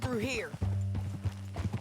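Horse hooves clip-clop at a riding pace in Red Dead Redemption 2, a steady rhythmic patter beneath a voice speaking Finnish throughout, with a brief whinny-like tone early on.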